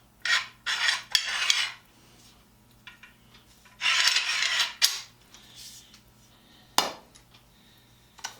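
A knockoff stamped steel cam clamp with a loose casting and loose thread is worked by hand. Several short bursts of metallic rattling and clacking are separated by quiet gaps, ending in a sharp click near the end.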